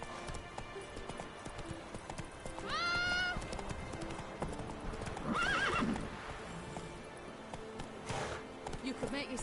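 A horse in The Witcher 3 moving at a steady clip-clop with repeated neighs and whinnies rising over the hoofbeats, fairly close, with a voice speaking briefly along the way.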